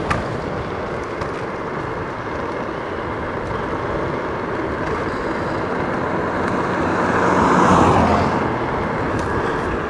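Apollo Go robotaxi coasting at about 25 mph down a mountain road, a steady broadband road and wind roar with tire hiss, swelling briefly louder near the end, no talk.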